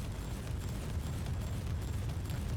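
Explosive rounds fired from a gun in W40k Inquisitor Martyr produce a low, continuous booming rumble with bursting pops throughout, fairly faint and with no talk over it.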